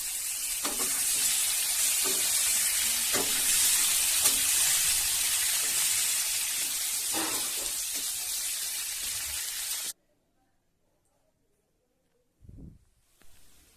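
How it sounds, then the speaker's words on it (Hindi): Potatoes fry in a pan with a steady loud sizzle for about ten seconds, broken by a few soft stirring scrapes, then the sizzle cuts off to near silence before a brief clatter at the end. "कड़े आलू भाजी नबा।"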